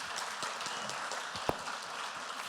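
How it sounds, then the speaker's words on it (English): Moderate audience clapping for a discussion panel at the end of a talk, a steady patter with one sharper clap standing out midway. "Ladies and gentlemen, a round of applause for our amazing panel, please."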